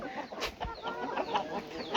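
Chickens on a poultry farm cluck in short, repeated calls against a busy flock murmur, fairly close and moderately loud, with no voices.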